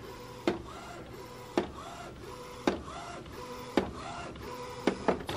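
An Epson Artisan 1430 inkjet printer prints with a steady mechanical whir, its print head sweeping back and forth in regular passes, each ending in a sharp click about once a second.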